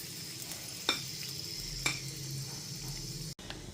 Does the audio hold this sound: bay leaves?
yes